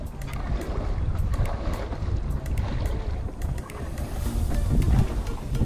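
Steady churning and rushing of a small outrigger boat moving through sea water off Maniwaya Island, Marinduque, with wind buffeting the microphone throughout, loud and close.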